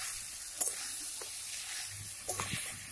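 Water added to sizzling jackfruit curry in a pan, a steady frying hiss with a couple of sharper splashing bursts as the liquid hits the hot oil, close and moderately loud.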